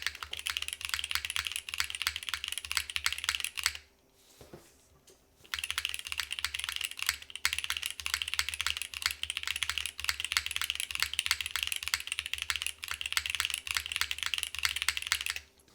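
Typing on a Vida prototype mechanical keyboard fitted with a Nixie spacebar, with rapid, close, crisp key clacks in a steady stream and one brief pause partway through.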